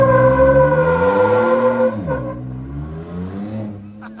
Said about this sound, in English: let's see if we can smoke these wheels one more time